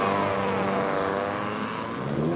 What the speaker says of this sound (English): Now let's see the engines fire.